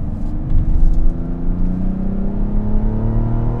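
Engine of a 2024 Mazda CX-90, a 340-horsepower unit with an 8-speed, pulling hard under acceleration: a steady, loud low rumble and drone rising slightly in pitch, heard up close with no talking.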